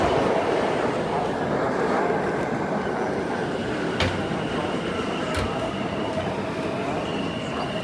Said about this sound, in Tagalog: This is a Manhattan Bound E Express train.